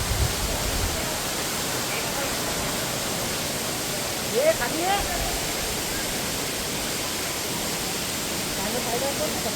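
Steady broadband rush of Devkund waterfall in Mangaon, Konkan, running continuously at moderate distance beneath people talking.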